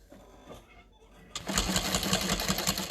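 A sewing machine stitches a tote bag seam at a 5 stitch length, starting after a quiet moment and then buzzing steadily and loudly up close with fast needle rhythm.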